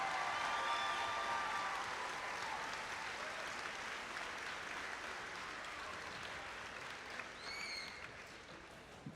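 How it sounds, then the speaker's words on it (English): A crowd at a FIRST robotics district event gives sustained applause for a long-serving mentor, steady dense clapping heard from an overhead position, fairly distant and even, with a few whoops or whistles near the end. "Please give him a huge round of applause."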